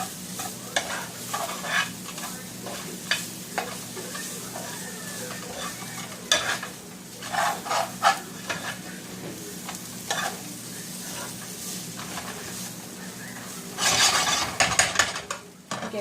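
Flour cooking in a hot pan with a spoon scraping and stirring through it, a soft continuous sizzle broken by irregular scrapes and clicks, a louder burst of stirring near the end, no talking.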